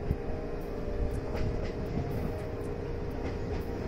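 A JR 683 series electric train arrives at a station on the Kakogawa Line area, its steady rolling rumble and wheel noise filling the scene with faint periodic clicks from the rails, loud and close with no talking.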